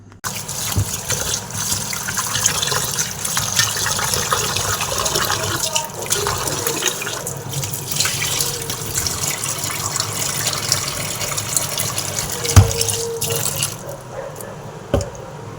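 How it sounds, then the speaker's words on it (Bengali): Tap water runs steadily over rice being washed in a pot in a home kitchen, a continuous close gush with occasional knocks and splashes, no talking. "শুধু এখানে চালটাকে আমি ধুচ্ছি"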